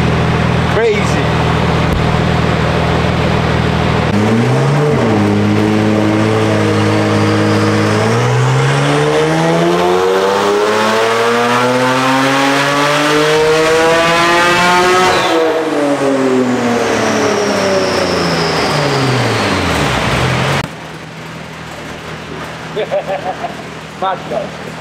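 A tuned Porsche engine of about 867 wheel horsepower revs hard on a chassis dyno. The loud engine note climbs steadily in pitch, holds at the top, then winds back down before cutting off abruptly near the end.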